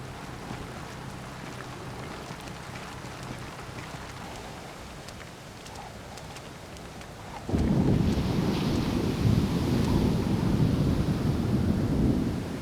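A thunderstorm in the video game Splinter Cell: Chaos Theory, with steady rain and wind that swell into a loud, low rumbling surge about two-thirds through, sustained to the end.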